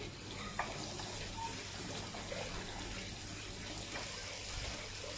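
Water and a little oil are poured into a pan while making a Thai spicy crocodile-meat stir-fry, giving a faint, steady rush of running liquid that stays even throughout with no talk.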